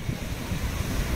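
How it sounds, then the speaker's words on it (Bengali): Sea waves surging onto the beach at Puri, a steady rolling wash of surf with wind noise across the microphone, continuous and fairly close throughout. "সমুদ্রের ধারে এই ঢেউগুলো আওয়াজগুলো শুনতে লাগে"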